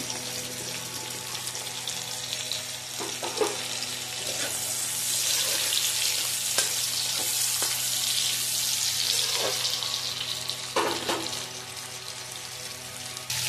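Chopped garlic sizzles in a hot kadai with lightly fried onions for homemade chilli chicken: a steady close hiss with a few sharp clicks and scrapes of stirring, and no voices.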